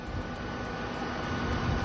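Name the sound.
loud airplane engine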